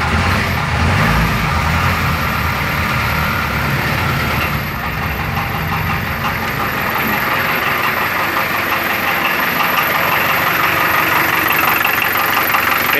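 A Rastrojero double-cab truck's engine idles steadily just after starting, a loud, close, continuous mechanical rumble with a faint high whine running throughout and no talk.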